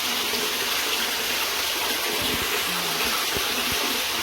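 A steady rush of water pours into a large fish tank where koi fish are kept, loud and continuous from start to end, with faint low knocks beneath and no talking.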